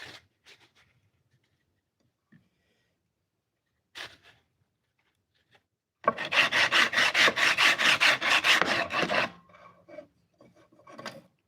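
Coarse 80-grit abrasive rasps hard against a steel knife blade during a knife build, a fast run of rhythmic back-and-forth strokes lasting about three seconds, loud and close, with quiet scattered handling noises before and after.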